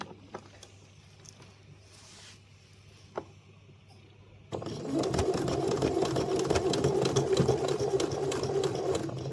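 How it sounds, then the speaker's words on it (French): A sewing machine runs a straight stitch along a fabric bunting banner, starting midway with a loud, continuous rapid whirr and clatter after some quiet handling noises. "Maintenant nous allons coudre au point droit toute la banderole."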